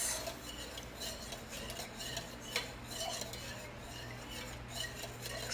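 Fragrance being stirred into melted candle wax in a container, with soft, quiet scraping and light clinks repeating at a slow pace and no talking.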